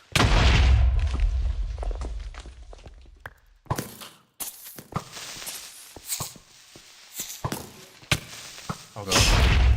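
Creeper explosions in a video game: heavy booming blasts open and close the passage, with sharp thuds and scattered impacts in between, loud and close.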